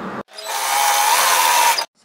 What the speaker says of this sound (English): and keep sewing